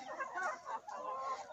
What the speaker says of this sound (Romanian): Găinile vin după mine.